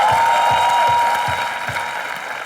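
Loud applause from the studio audience of Comedy Nights With Kapil, a broad continuous wash of clapping over steady low thumping beats and a held tone, slowly fading.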